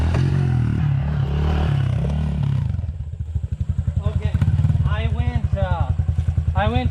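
A pit bike rides and jumps on a homemade dirt track with a berm, its small engine revving in a choppy, pulsing drone, loud and close, while voices talk over the early part.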